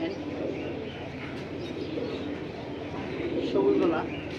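Pigeons at a bird seller's collection coo repeatedly in low, rolling bursts under ongoing conversation between men.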